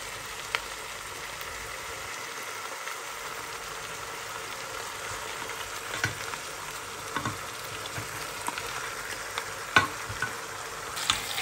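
Pork leg pieces frying in a pan for Filipino adobo give a steady, quiet sizzle with soft crackles and occasional louder pops, close by, with no talking.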